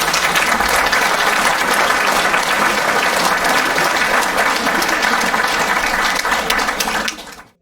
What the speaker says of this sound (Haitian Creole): Ballon applaudissement.